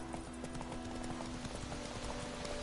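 Hooves of the horse Roach clip-clop in a steady galloping rhythm in The Witcher 3, close and continuous, with a faint snort, backed by a constant game-world hum.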